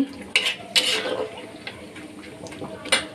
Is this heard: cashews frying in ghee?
yes